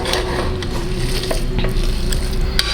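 Hot cooked rice being mashed in a pot for hotel-style curd rice, a steady close squishing and scraping that runs without pause and with no talk.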